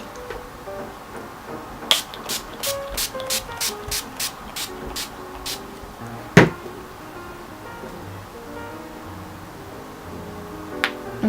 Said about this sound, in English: I'm going to spray my face with NYX Dewy Finish Long Lasting